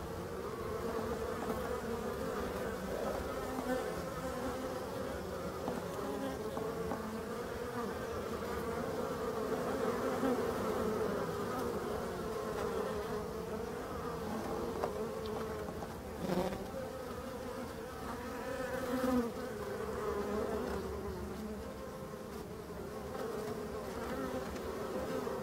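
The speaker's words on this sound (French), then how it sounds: "On voit quelques abeilles qui rentrent du pollen. C'est le pollen de noisetier." Black forest honeybees hum steadily at close range around a hive set in a tree, some returning with hazel pollen, a dense, continuous buzz with no voices.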